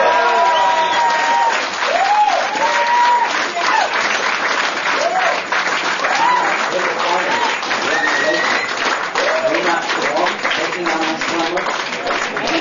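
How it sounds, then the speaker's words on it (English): A large crowd at a ClanBase EuroCup gaming event applauds loudly and continuously in a reverberant hall, with cheering voices and shouts rising through the clapping after a win. "great applause here in a second."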